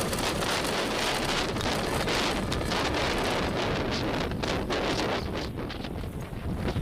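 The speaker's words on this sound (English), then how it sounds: "Ignition. Liftoff of L-87. Go Falcon, go, go." A Falcon 9 rocket lifting off from Cape Canaveral on the L-87 mission, heard as a continuous, dense, crackling broadband roar like heavy rain or wind. It stays loud and steady throughout, with no voices.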